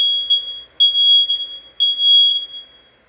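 Smoke alarm self-test on a home safety detector: a series of loud, piercing high-pitched beeps in an uneven rhythm, about five chirps over three seconds, close and alone.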